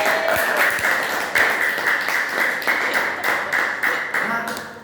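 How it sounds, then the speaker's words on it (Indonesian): A class of students claps in a Pancasila civics lesson, a steady run of sharp, loud hand claps in an uneven rhythm lasting several seconds. "Tepuk tangan."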